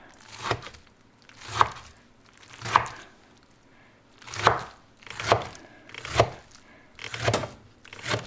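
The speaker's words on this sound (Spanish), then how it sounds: "estos chiles lo único que vamos a hacerlo es cortarlos de esta manera" A knife slices peeled chiles into rings on a board, about nine distinct chopping knocks at an irregular, unhurried pace, close up with quiet gaps between cuts.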